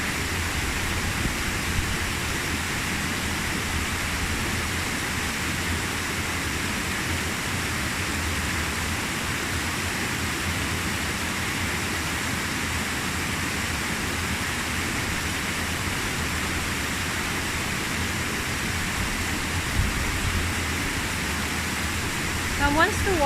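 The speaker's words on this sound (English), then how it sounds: "And focus on the sound of the waterfall again." Steady rushing of a waterfall fills the whole stretch, a broad continuous wash of falling water, constant and fairly loud with no clear breaks and no talk over it.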